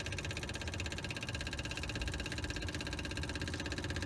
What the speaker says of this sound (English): let the fuel pump run for a few seconds